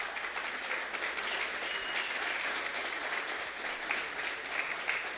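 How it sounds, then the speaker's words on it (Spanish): A church congregation gives sustained applause for the fathers at a Sunday service, a dense, even wash of clapping that fills the whole stretch with no pauses. "dense un aplauso muy fuerte todos los papás."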